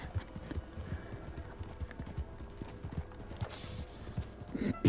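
Horse hooves clip-clop in the Western video game Red Dead Online, a quick, regular rhythm of close hoofbeats on hard ground, with a brief stir of other noise near the end.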